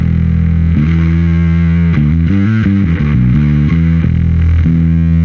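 An electric guitar played through the Entropia distortion block of a Darkglass Anagram, with loud, thick, heavily saturated chords changing in a steady rhythm and sustaining without a break.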